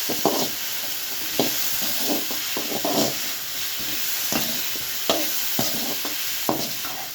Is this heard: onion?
yes